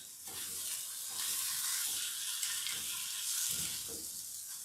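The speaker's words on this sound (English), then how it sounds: "And give this another stir here." Vegetables for pad thai sizzle in a pan with a constant bright frying hiss, while several soft stirring scrapes and pushes rise beneath it at irregular intervals; no talking.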